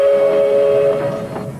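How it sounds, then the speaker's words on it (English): The Venice Simplon Orient Express passenger train passes with a steady, loud horn-like whistle tone held for over a second, over rumbling rail noise that fades slightly toward the end. "the most luxurious train in the world"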